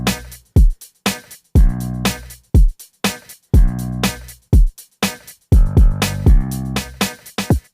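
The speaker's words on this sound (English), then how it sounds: "So far we have a bass, the kick is from Ableton, a snare and a hi-hat" A sample-based beat with bass, an Ableton kick, snare and hi-hat thumps in a punchy, tightly gated loop with crisp hits and sharp gaps, loud and upfront with no voices.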